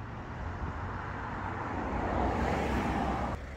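A van pulls up nearby at the end of a walk on the Cotswold Way, its engine and tyre noise swelling steadily as it approaches, then cutting off abruptly near the end.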